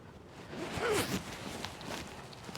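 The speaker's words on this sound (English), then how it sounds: "So this suit has a zipper that goes all the way up on the inside." The zipper of a beekeeping bee suit being pulled closed all the way up on the inside, a quick rasping zip near the middle, soft and close, with faint rustling of fabric around it.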